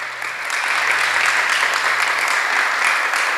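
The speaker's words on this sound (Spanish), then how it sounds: "Les damos un aplauso." Congregation applauding during a Spanish-language church service, a sustained, even round of clapping that swells in and continues steadily to the end.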